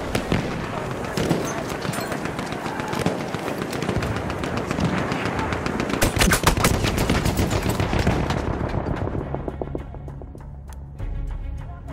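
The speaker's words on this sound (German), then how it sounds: "Maschinengewehr, eindeutig feindlich!" Sustained enemy machine-gun fire in the game Battlefield 1, dense rapid rattling bursts amid a chaotic battlefield din that thins out toward the end, with shouted voices mixed in.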